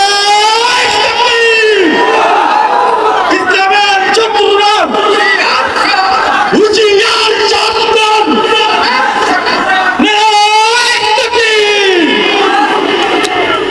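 Large crowd at a religious gathering shouting the takbir chant Allahu Akbar, loud, close and repeated in several strong surges, the massed voices filling the whole stretch.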